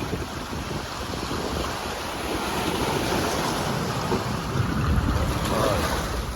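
Sea waves roll onto an eroding beach of new fill, a constant loud wash of surf with strong wind rumbling over the microphone while a voice talks briefly.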